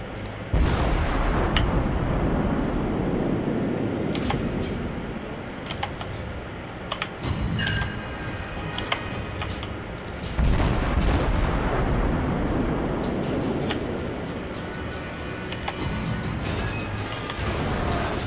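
Warship guns fire and shells strike in World of Warships naval battle gameplay: several loud booming blasts and impacts ring out at intervals over a steady rumble of background noise, with scattered keyboard clicks.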